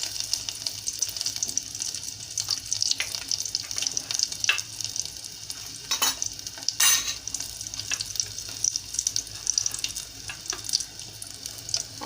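Crushed garlic hits hot oil in a pan for tomato dal, giving a steady hiss and sizzle with scattered clinks and a couple of sharp knocks. It sounds close and moderate, with no talk.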